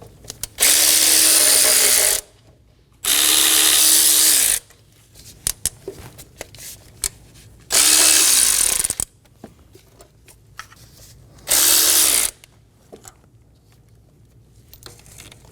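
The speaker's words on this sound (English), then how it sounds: "Using a 12mm socket, we're going to go around and remove the 5 fasteners for the top of the intake manifold." Four bursts of ratcheting from a ratchet and 12mm socket undoing the top intake manifold bolts on a 2008-2015 Scion xB 2.4L four-cylinder, each loud burst lasting one to two seconds, separated by quieter handling clicks.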